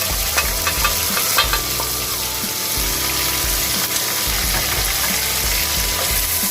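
Chopped onions and tomatoes frying for a restaurant-style meat bhuna, with a steady loud sizzle and occasional spoon scrapes and clinks as the mixture is stirred close by.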